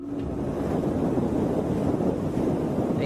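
Wind blows on a windy night in Spain as a steady, rushing roar that buffets the microphone, loud and continuous for about three seconds with no voices.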